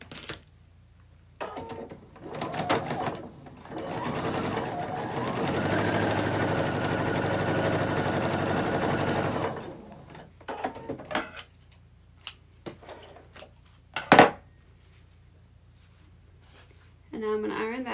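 A sewing machine stitches a seam on a needlepoint stocking ornament, one steady whirring run of several seconds followed by short clicks and handling noises, with a person speaking before and after.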